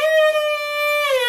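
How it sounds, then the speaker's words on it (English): A violin note is played with a smooth slide while shifting on the same finger, one sustained, bright bowed tone that glides in pitch, close and fairly loud, with no talk. "is when people try and shift on the finger they're playing, which will sound something like this."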